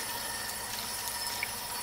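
Cool tap water runs steadily over homemade cottage cheese curds being rinsed in a kitchen, a constant hissing flow close by.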